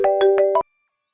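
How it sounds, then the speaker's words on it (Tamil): A mobile phone rings indoors with four short, evenly spaced electronic tone bursts, loud and close, then cuts off into silence. "ஏன் போன அடிக்குது?"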